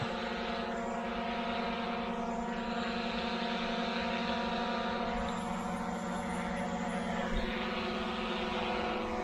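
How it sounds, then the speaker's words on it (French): Propellers of a DJI Mavic Air 2 and a PowerEgg X drone spin together, a steady close buzzing whine with strong harmonic tones holding level throughout. "Voilà, et normalement vous avez les deux drones qui font une hélice."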